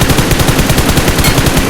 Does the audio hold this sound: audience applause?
no